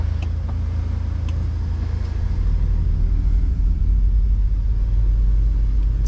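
Interior of a 2023 Hummer EV on the move, with a deep, steady road rumble and a low drone filling the cabin, plus a few faint clicks.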